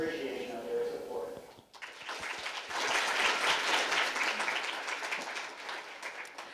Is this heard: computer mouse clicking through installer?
no